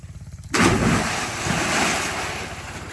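A person jumps into the water of an open well on a hot day. After a brief quiet start comes a sudden loud, broadband splash, followed by a sustained washing, churning rush of water close to the microphone.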